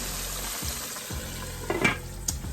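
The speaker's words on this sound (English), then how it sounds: "Let them cook for like 3 to 4 minutes on each side." Pork chops fry in a pan with a steady close sizzle, broken by a few brief scraping and shifting sounds from turning or stirring.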